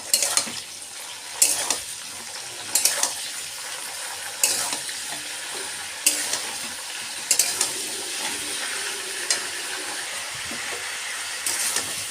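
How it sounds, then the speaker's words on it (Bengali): Winter vegetables fry in a pan for khichuri, a steady sizzle punctuated by about a dozen sharp scraping stir strokes at irregular intervals, close and clear with no talking. "আমি সমস্ত সবজিগুলো ভেজে নিচ্ছি"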